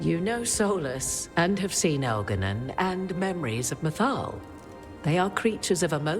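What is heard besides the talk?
No everyday noises stand out.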